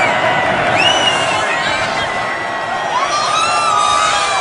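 Loud stadium crowd at an Army vs Navy football game cheering, screaming and whooping continuously, with shrill individual shouts rising above the dense roar throughout.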